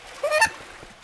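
Duck in Garry's Mod giving a single short, nasal honk-like quack, close and clear against a quiet background.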